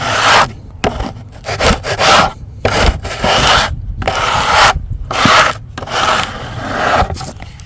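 A dustpan edge scrapes and rubs across rotten, spalted oak wood in repeated rasping strokes with brief pauses between them, loud and close.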